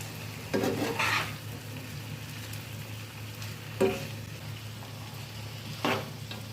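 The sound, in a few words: chicken pieces frying and being stirred in a pan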